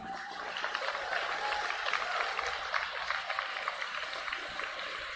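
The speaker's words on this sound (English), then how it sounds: "The clapping is happening." Audience applause after a spoken word poem at a winter grade 11/12 competition, steady sustained clapping from a crowd with a voice faintly underneath.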